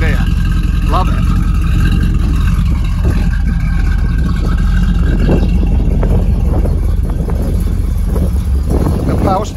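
A 1987 IROC with a 350 V8 runs with a loud, steady low engine rumble throughout, while a person talks over it for most of the clip.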